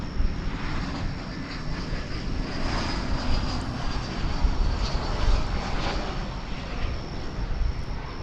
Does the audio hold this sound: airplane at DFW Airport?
yes